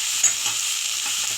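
Bottle gourd just added to a cumin tempering, hissing in hot oil with a bright, even, close sizzle that holds steady throughout.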